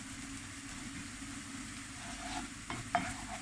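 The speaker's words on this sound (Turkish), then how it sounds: "Salçayı da kavuralım." Quiet, steady sizzle of tomato paste frying in a pan, with a few soft scraping stirs near the end.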